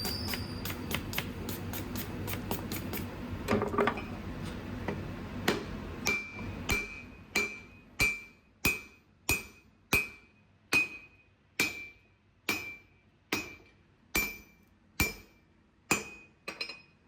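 Hammer blows on a steel cable Damascus billet at the forge: sharp metallic clinks, rapid and dense at first, then settling into a slow, regular rhythm of ringing strikes about one per second, near and clear.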